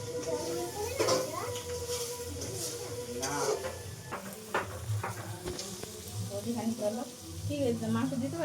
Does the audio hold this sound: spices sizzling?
yes